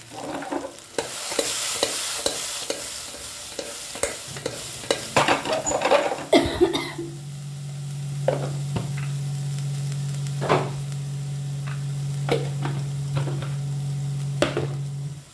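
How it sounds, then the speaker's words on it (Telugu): A spoon stirs fried chickpeas with coriander powder in a hot pan, scraping rhythmically over a soft sizzle, then the frying settles into a steady hum with occasional clinks. "కొంచెం ధనియాల పౌడర్ వేసుకోవాలి. వేసి కలుపుకోవాలి."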